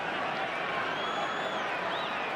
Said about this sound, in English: the applause he can hear is from, inevitably, the Manchester United fans